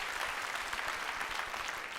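Sustained applause from a theater crowd at a stand-up comedy performance, a thick continuous patter of many hands filling the whole stretch without talk.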